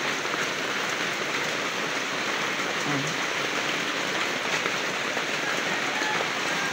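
Heavy rain pours down in a dense, steady hiss, constant and enveloping with no pauses.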